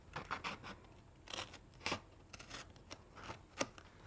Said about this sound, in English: get your snippers and just trim it a little so that the triangle fits